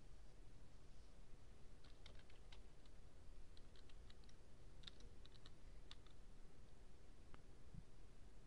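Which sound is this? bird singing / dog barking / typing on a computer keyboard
typing on a computer keyboard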